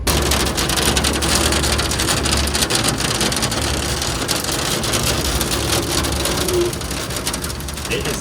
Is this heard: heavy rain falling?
yes